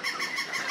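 Young gamecock chicks (pollos giros) at a breeding farm in Chiapas peep in a quick, high, continuous chirping cluster, close and moderately loud, lasting under a second.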